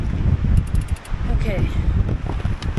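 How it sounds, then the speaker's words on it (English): Breezy morning wind buffeting the microphone outdoors at a climbing spot, a steady close rumble throughout, with a brief spoken word over it. "It's pretty breezy today"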